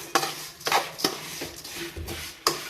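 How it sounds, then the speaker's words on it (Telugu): Vermicelli (semiya) being fried in ghee and stirred in a pan, with a few distinct scraping and clinking strokes of a spoon against the metal pan, close and moderately loud, over a faint sizzle. "సేమ్యా నెయ్యిలో వేపుతున్నాను"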